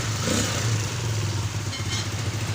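A Kawasaki KLX 150 motorcycle engine runs steadily at idle after a clutch-side repair, a close, even low thrum with a faint mechanical rattle and no talk over it.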